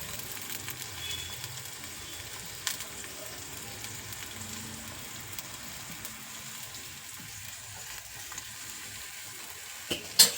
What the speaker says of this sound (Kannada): ಈಗ ಈರುಳ್ಳಿನ ಸ್ವಲ್ಪ ಎಣ್ಣೆ ಫ್ರೈ ಮಾಡ್ಕೊಳ್ಳೋಣ